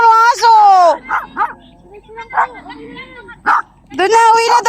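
A dog barks and yips in short bursts between stretches of talk outdoors on a trip to Marinduque, several close, loud barks under and between voices.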